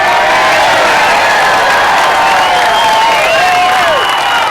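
Crowd at an outdoor political rally at the Arizona Capitol applauding and cheering, a steady dense wash of clapping with whoops and shouts over it, loud and continuous throughout.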